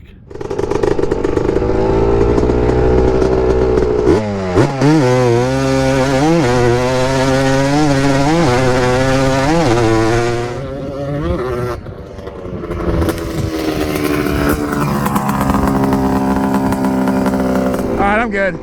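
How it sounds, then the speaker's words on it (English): A Honda TRX250R drag racing ATV with a two-stroke 250 engine, revving loud and close with a rising, wavering pitch, then dropping to a rougher rattling idle and climbing again, with voices talking over parts of it. "I can't get over the sound of that bike."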